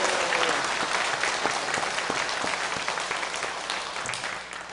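A church congregation claps steadily together in a dense, sustained round of applause that fades slightly toward the end, with no voices rising above it.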